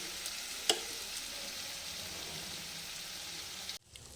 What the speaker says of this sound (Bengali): ভালোভাবে আমি মশলা ফ্রাই করে নিচ্ছি।